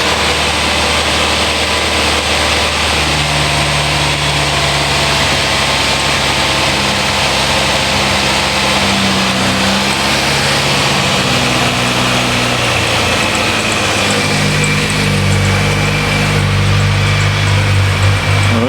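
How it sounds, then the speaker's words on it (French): Ford Mustang engine idling high at around 1600-1700 rpm after a throttle screw adjustment, a loud steady drone with a slight wavering pitch heard up close and alone throughout. "on a une sorte de ralenti. C'est encore vachement élevé"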